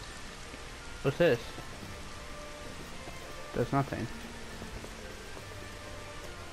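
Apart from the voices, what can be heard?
rain in the video game Final Fantasy XV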